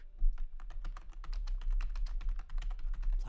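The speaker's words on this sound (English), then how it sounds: "Typing it in, people." Rapid, steady typing on a computer keyboard, a continuous run of crisp close-up key clicks with no talking.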